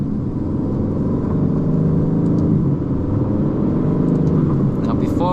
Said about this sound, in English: I want to talk about the sound. The sound of this engine.